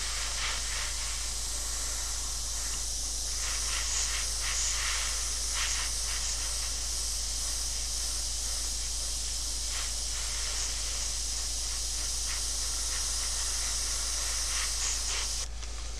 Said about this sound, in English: following my own advice and spraying through these corners